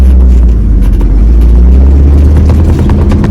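A car fitted with a Holley 4412S carburetor accelerates in second gear on a bumpy road, its engine giving a loud, steady low drone close by with no talk over it.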